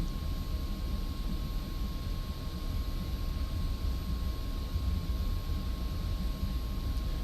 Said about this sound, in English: At 100 knots, pull back on the stick and let your nose wheel get off the ground.